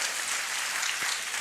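Audience applause at a career guidance and board exam preparation event in Aurangabad, following a recited Urdu couplet, a dense, steady burst of clapping throughout the short moment.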